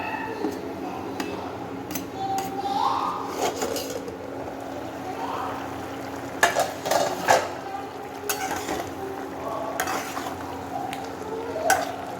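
Hilsa fish with pointed gourd and tomatoes sautéed in a pan, its sauce reducing: a low, steady sizzle carries repeated spoon scrapes and sharp clinks against the metal, loud and close.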